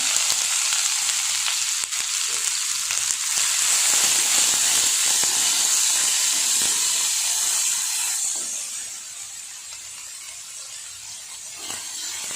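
Finely chopped onions frying in hot oil for a Tamil-style chicken roast, a loud continuous sizzle close up that quiets partway through as the crackling settles.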